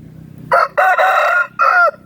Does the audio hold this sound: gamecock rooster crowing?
yes